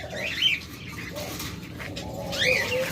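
Pet budgerigars, cockatiels and lovebirds chirp at a bird seller's, with a few bright whistled calls near and far over a low background rumble.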